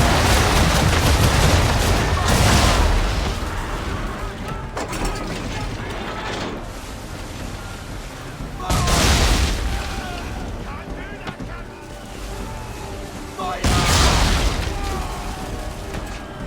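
Naval cannon fire in the Assassin's Creed III video game: four heavy, loud booms at uneven intervals, each with a long rumbling tail, separated by creaking ship mechanisms and clattering battle noise.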